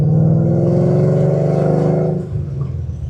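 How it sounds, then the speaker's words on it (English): Coyote V8-swapped car with long-tube headers, an H-pipe and MagnaFlow Street Series mufflers, a deep loud rev that holds and rises, then drops back to a rumbling idle, heard up close. "this is a long tube setup, H-pipe, and MagnaFlow Street Series mufflers. Sounds damn good, man."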